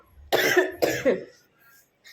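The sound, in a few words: cough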